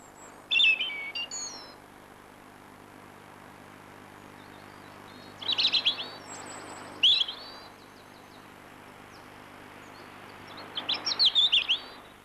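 Song of a European robin, a British garden bird, given in several short high warbling phrases separated by pauses, moderately close and clear over a quiet background with faint low hum.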